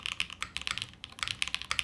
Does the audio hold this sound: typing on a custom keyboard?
yes